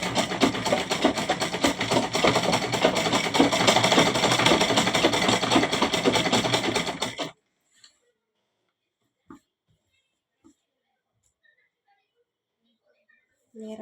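A sewing machine stitches a pillow cover in a fast, steady mechanical rattle for about seven seconds, then stops abruptly, leaving near silence broken by a few faint clicks.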